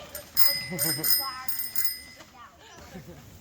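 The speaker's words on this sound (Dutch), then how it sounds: "Bicycle bell." A bicycle bell rings in several quick bright dings near the start, overlapped by voices talking and exclaiming.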